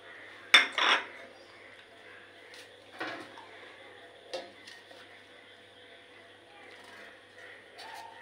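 A metal lid clanks onto a cooking pot of kacchi biryani, with a sharp clatter of utensils up close followed by a few softer knocks and scrapes.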